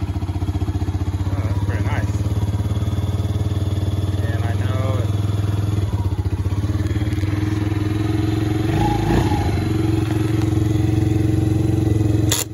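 Kawasaki 50 quad engine turning over and then running with a steady low putter and some clattering, heard close, while someone speaks over it.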